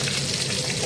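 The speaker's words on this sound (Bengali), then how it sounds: "আমি আর একটু ভেজে নিচ্ছি।" Hilsa fish head frying in a pan gives off a steady, dense sizzle that stays even and unbroken throughout, with no voices over it.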